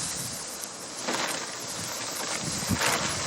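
Gusty outdoor wind buffets the microphone with a broad rumbling roar that swells and eases in bursts, loud and close, while a restored 1934 Pacific Model 107 is being spray-painted outdoors, with no talking.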